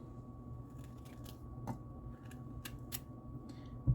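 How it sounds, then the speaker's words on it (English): Zucchini squash is sliced on a board, giving a series of faint, crisp cuts and clicks. They are spaced irregularly over a quiet, steady background hum, with no talking. "I am just going to cut the rest of this up."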